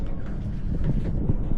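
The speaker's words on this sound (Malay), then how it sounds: "Angin padu." Strong wind buffeting a microphone on a fishing raft at sea at night, a steady loud low rumble with gusty bumps throughout and no clear pauses.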